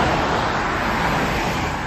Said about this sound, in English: you hear the cars?